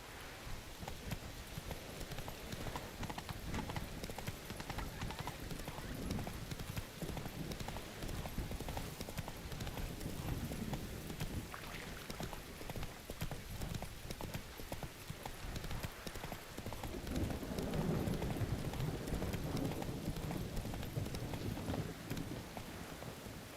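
Roach, the horse in the video game The Witcher 3, gallops with rapid, continuous clip-clopping hoofbeats over a wind and rain ambience, growing slightly louder and fuller toward the end.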